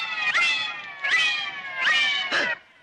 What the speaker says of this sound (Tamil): என்ன நான் குடிக்க வேண்டிய பாலை பூனை குடிச்சுக்கிட்டு இருக்கு?